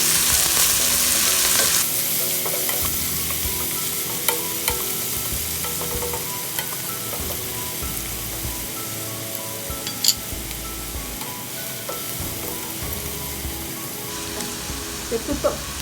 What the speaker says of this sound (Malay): tumiskan bawang